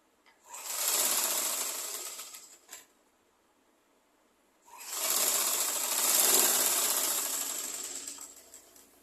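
A sewing machine stitches a skirt in two loud, close, whirring runs, the first about two seconds long and the second longer, with a brief quiet gap between them.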